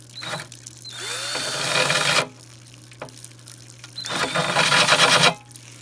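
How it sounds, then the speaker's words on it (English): A power drill whines in two long bursts separated by a brief lull, grinding steadily close by into aquarium glass over a constant low electrical hum. "Let the drill do all of the work"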